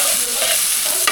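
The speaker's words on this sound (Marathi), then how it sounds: "कांदा टाकला जाताना मिरची टाकलेली आहे तेलात." Chopped onion and green chilies hitting hot oil, a brief bright hiss of frying that holds steady throughout with a small stirring tap near the end.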